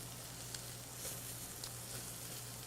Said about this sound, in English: make sure I can get a thorough sear all around on this